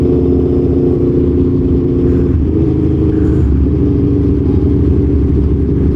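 A modified Aprilia Tuono V4 1100 Factory motorcycle roars loudly and steadily under way from the rider's position. Brief dips in the engine note mark quick-shifter gear changes about a second apart.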